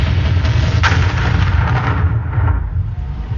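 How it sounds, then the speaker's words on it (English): German artillery and rocket launchers fire in a loud, continuous barrage of booming blasts and rumbling detonations, heavy low rumble throughout with no voices, easing slightly toward the end. "German artillery and rocket launchers pound the American defenses."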